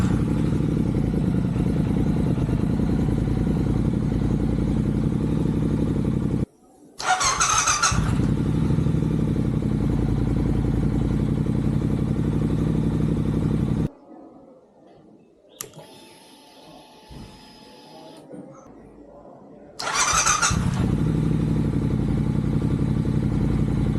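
A superbike engine with a fault runs loud and steady in two long stretches, cut by brief gaps and a quieter passage with faint clicks and clatter.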